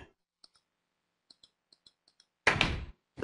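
Faint, sparse clicks sound as blocks are placed in Minecraft, followed by one short, louder wooden door thud.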